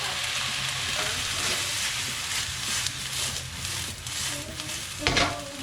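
Soy sauce, oyster sauce and sugar hit a hot wok for crispy stir-fry beef, giving a steady close hiss of sizzling with faint clinks and a brief louder flare near the end.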